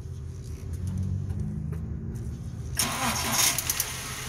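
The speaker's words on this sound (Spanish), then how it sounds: "Ya encendió el auto." A VW Gol Pointer car engine turns over and catches after a low, quiet idle-like rumble, then runs with a louder, rougher burst of engine noise up close.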